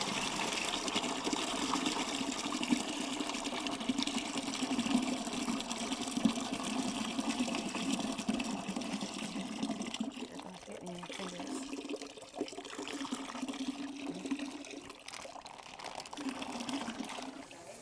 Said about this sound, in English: now we're gonna pour the juice in the bucket.